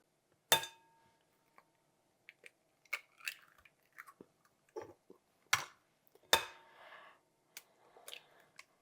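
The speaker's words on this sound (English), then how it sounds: "To that, we're going to crack in 2 eggs." Two large eggs cracked into a mixing bowl holding ground beef, sharp taps and shell cracks followed by faint crinkling and dripping, close and quiet with gaps between.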